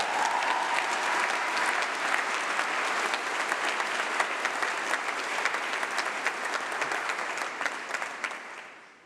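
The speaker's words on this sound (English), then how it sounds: "I think another round of applause for Noman Terry" Sustained applause from a large audience at a university winter graduation ceremony, an even roar of many clapping hands that fades out gently at the end.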